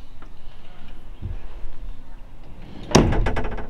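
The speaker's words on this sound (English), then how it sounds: "Automatically shuts the rear doors." A soft mechanical latch whirs as an electric latch automatically shuts the rear doors of a 1955 Cadillac custom, then a door thuds shut with a solid clunk near the end.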